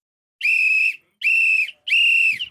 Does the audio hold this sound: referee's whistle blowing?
yes